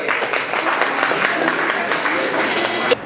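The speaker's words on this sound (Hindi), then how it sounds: "इनके लिए एक बार जोरदार तालियां" Seminar audience at a personality development session at an institute of technology applauds in a steady, dense wash of clapping lasting a few seconds, with voices mixed in underneath.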